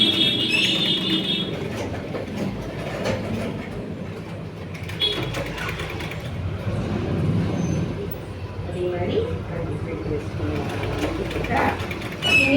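A sewing machine runs steadily, stitching folded fabric frills for churidar pants, with a continuous mechanical whir and clatter throughout, close and fairly loud, a few light clicks and handling noises on top.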